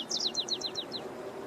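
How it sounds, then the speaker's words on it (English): Small birds chirp in a San Francisco park, a quick series of about eight high thin tweets over faint outdoor background, no voices. "Somebody could do something about all these birds making noise"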